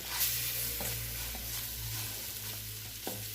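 Chicken curry being stirred in a pot, with a low steady simmer and a few soft scraping strokes spaced through a few seconds, alone and without talk.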